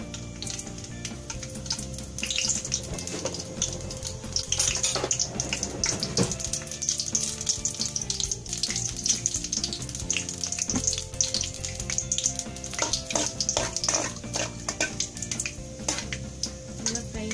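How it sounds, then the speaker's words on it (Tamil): Mustard seeds and two dried red chillies fry in hot oil, giving a dense crackling sizzle with rapid popping that builds after the first couple of seconds and continues steadily, close and moderately loud, with occasional stirring. "ஆயில் நல்லா சூடாயிடுச்சு. நம்ம எடுத்து வச்சிருக்க கடுகு போட்டுக்கலாம்."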